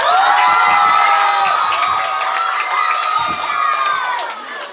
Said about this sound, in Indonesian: Tepuk tangan untuk mereka semua.